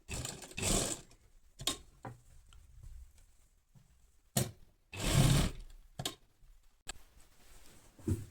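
A sewing machine stitches the hem of palazzo trousers in short, separate runs of whirring and clattering, with quiet pauses between the bursts.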